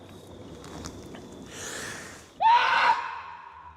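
A person out in the woods screams to imitate a Bigfoot howl: after a soft breathy rise, one loud, sharp, wavering yell bursts out and tails off over about half a second, with quiet surroundings before it.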